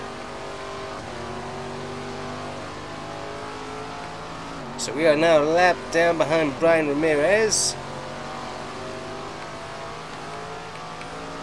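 Super-late model race car engine drones steadily through the whole run while its rear tires lose grip on a hot track at Desert View Speedway; a voice speaks over the middle stretch.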